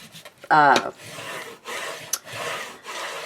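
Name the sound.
burnishing glued paper on a cardboard box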